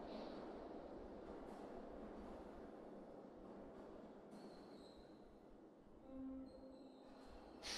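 Steady low rumble of a passing train with wheel squeal in the game Streets of Rage 4, a continuous broadband roar under faint tonal game sounds, fairly quiet throughout.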